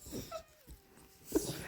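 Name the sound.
dog whining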